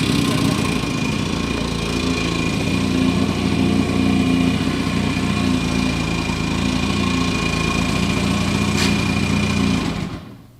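A Lambretta 150 scooter engine idles steadily and loudly close by, a buzzing, even putter that cuts off abruptly at the end.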